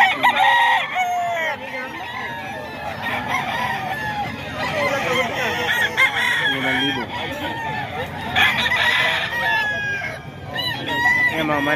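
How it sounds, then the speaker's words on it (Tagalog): Roosters at a poultry farm in Bocaue crow repeatedly amid constant clucking from many chickens, loud and close, with people speaking in the background. "Ayan mga manok ni Boss Eric to mga kaido."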